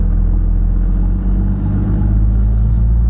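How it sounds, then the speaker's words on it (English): A four-wheel-drive vehicle in second low grinds up a steep hill, its engine giving a loud, steady low rumble with a slight dip in the middle before holding its strain. "Pop your vehicle into second low and we're ready to head up the hill."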